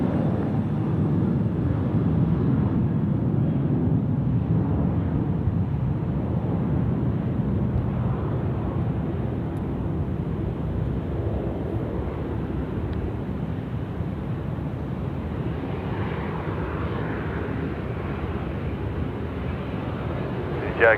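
Singapore Airlines airliner landing on runway 34 left at Sydney Airport, a sustained low jet rumble with wind buffeting, steady and moderately distant, rising a little near the end.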